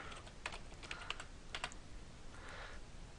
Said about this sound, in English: And we will type in pizza here.